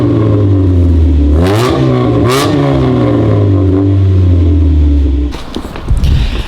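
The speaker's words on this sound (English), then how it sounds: "This exhaust definitely sounds different." Mazda Miata fitted with new exhaust headers revs hard nearby, its loud engine note climbing and falling through two sharp blips before settling into a steady idle drone, then cutting to clattering rumble at the end.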